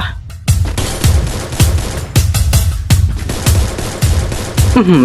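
M14 rifle fire in the battle royale game Free Fire: a loud, steady series of about ten sharp single shots at a quick, even rhythm, each with a short echoing tail.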